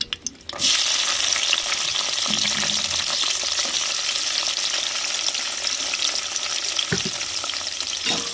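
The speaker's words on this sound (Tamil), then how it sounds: "சூடாயிருச்சுங்க வத்தல் சேர்த்துக்கிறோம் வெட்டி வச்ச வெங்காயத்தையும் சேர்த்துக்கிறோம்" Dried red chillies and chopped onions drop into hot oil in a pan, setting off a sudden loud sizzle after a few light clinks, then a sustained close frying hiss with occasional stirring scrapes.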